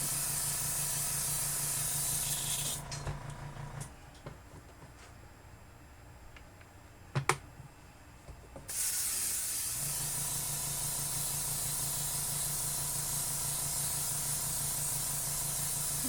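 An airbrush hisses steadily while spraying craft paint onto a stainless steel tumbler, a continuous close airy spray that cuts out for a few seconds with a small click, then resumes just as strongly.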